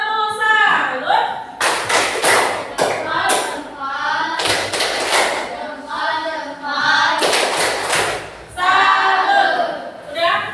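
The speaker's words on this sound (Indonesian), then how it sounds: "Tepuk salut." A classroom of students performs a rhythmic 'tepuk salut' clapping routine, with bursts of sharp claps and thuds in patterned groups, mixed with children's voices chanting and talking between the beats.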